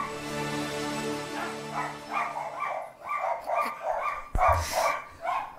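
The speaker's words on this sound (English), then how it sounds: "Hear my dogs barking." Several dogs bark in quick bursts, close by, after a brief tonal jingle fades out; the barking continues in an uneven rhythm.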